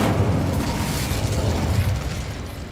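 A fiery Incendio spell burst in Hogwarts Legacy: a broad, roaring whoosh of flame that starts loud and dies away slowly over a few seconds.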